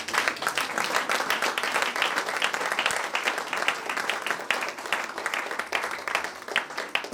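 A church congregation at a French-speaking service bursts into sustained applause, a loud, steady stream of clapping from many hands that continues without pause throughout.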